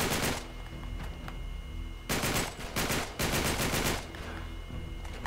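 Bursts of automatic gunfire in Uncharted 3 come in several loud clusters, rapid and close, separated by short quieter gaps with lingering background noise.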